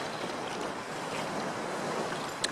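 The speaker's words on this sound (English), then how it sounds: "That wind's cutting." Cold, cutting wind blows across a wild camp in Scotland, a dense, continuous roar and buffeting against the microphone that holds steady for the whole moment, ending in a brief knock, with no one speaking.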